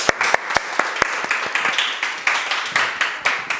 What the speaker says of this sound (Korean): 오늘 우리 김대한 목사님 나오실 때 우리 박수로 치면서 환영했으면 좋겠습니다